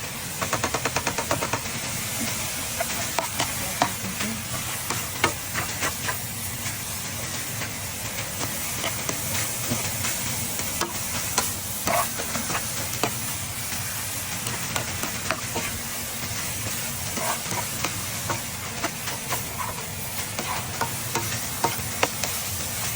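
Food being stirred in a hot pan while making steamed rolls (fawm kauv): a continuous hiss with frequent small scraping clicks from the utensil, steady and close for the whole stretch, with no talking.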